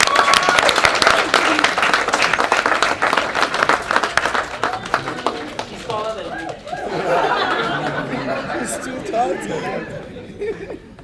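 Audience at a Tribeca film premiere applauds, loud crowd clapping for the first several seconds that thins into chatter and scattered laughter as voices take over.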